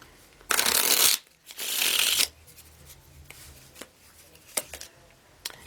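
Tarot cards being shuffled in two loud, dense riffling bursts up close, followed by quieter shuffling, card handling and a few soft taps.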